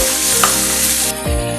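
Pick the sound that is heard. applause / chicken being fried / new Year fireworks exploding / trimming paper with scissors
chicken being fried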